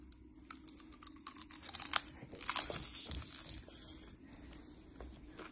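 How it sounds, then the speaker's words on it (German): A crisp, crunchy apple is bitten and chewed up close, with a run of sharp crunching clicks and moist chewing over a faint background hum, no voices. "Du isst jetzt einen unglaublich leckeren Apfel."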